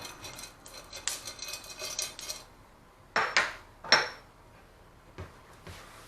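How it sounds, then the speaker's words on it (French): A utensil stirs thick waffle batter in a bowl, producing irregular clinks and scrapes in quick bursts, then sharper knocks against the bowl separated by quiet pauses. "Donc on mélange bien la pâte parce qu'elle s'est alourdie à ce qu'elle n'était."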